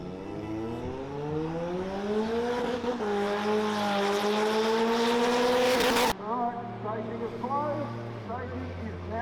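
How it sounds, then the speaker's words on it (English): Drag car with a 1.3 litre boosted engine on a 75 horsepower nitrous shot, loud engine screaming up through the gears down the drag strip with rising pitch and a sharp shift, then lower revving. "So this is like the 500 horsepower run just the whole way down the drag strip"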